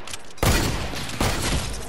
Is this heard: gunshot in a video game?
yes